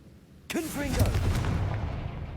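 A Confringo fire spell blast in Hogwarts Legacy bursts in sharply and loud, followed by a sustained roaring rumble with swooping magical whooshes, and no voice over it.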